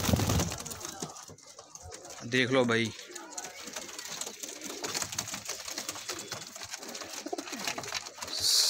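Golden dab teddy cross pigeons held for sale in Amritsar give a couple of low, throaty coos, one at the very start and a longer one a few seconds in, near and fairly soft amid faint background noise and a man's brief speech.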